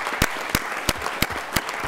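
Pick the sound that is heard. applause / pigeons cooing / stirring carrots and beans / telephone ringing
applause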